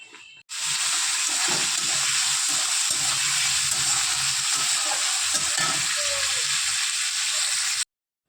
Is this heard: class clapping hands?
no